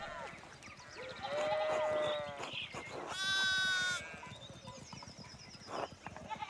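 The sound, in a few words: sheep bleating in video game Pentiment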